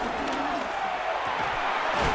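Stadium crowd noise from the Madden 26 football game, Jaguars vs Texans, a steady broad roar of cheering that holds at an even loud level throughout, with no speech over it.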